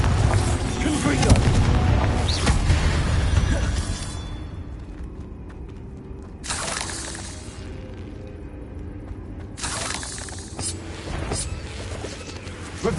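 Deep booming blasts from a fire spell cast in the Hogwarts Legacy video game, with a heavy rumbling burst at the start, then quieter hits near six and ten seconds over a low game backdrop.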